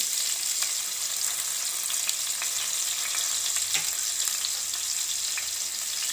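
Garlic and ginger sizzle steadily in hot oil in a home kitchen, a loud, continuous close-up crackle with faint scattered pops throughout.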